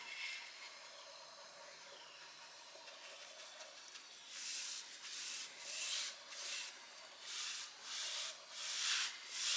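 A 4-inch brush spreading Cabot stain across wooden deck boards: faint steady hiss at first, then a run of rhythmic, breathy swishes as the brush is drawn back and forth in repeated strokes.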